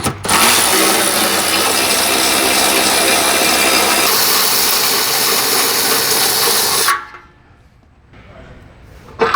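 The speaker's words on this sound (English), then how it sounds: "next, we're going to pull out the two 18mm bolts that also go into that bumper bracket." A ratchet removes 18mm bolts from the bumper bracket of a Jeep Wrangler Unlimited Rubicon JL, a loud, rapid, continuous clicking whir close up for about seven seconds before stopping abruptly into quiet.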